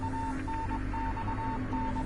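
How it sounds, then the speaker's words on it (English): Morse code beeps from the video game Death Mark: a steady tone pulses in short and long bursts with uneven gaps, repeating over a low background hum. "Oh, it's Morse code, but I don't know the code."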